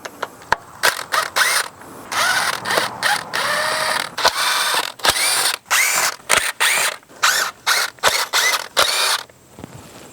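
A power tool ratchets and whirs in short repeated bursts while backing off the ten valve cover nuts on a 2002-2006 four-cylinder Toyota Camry, close and loud with brief clicking pauses between each nut.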